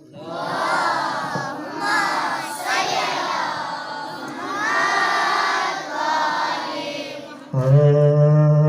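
A large crowd at a school event chants salawat together in loud, rhythmic unison, several swelling phrases in succession, ending with a sharp musical tone.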